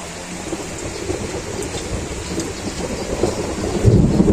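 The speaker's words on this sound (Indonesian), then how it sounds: "Lagi lihat air terjun, tapi hujan." Steady rain pours down near a waterfall with a low rumble of thunder building toward the end, no voices.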